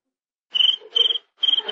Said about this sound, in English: I'll fix that cricket.